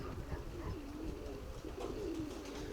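Pigeons landing coo softly in a steady low murmur, with faint wing and movement noises mixed in, fairly close and continuous throughout.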